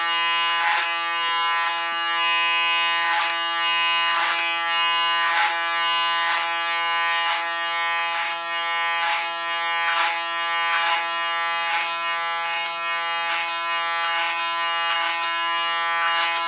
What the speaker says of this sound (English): Just gently let the clipper do its work.